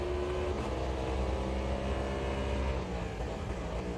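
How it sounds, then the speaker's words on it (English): A trophy truck in Automobilista 2 has a loud, droning engine that rises and falls as it works through the gears, with a steady roar the whole way through. "I love the downshift sounds in these things"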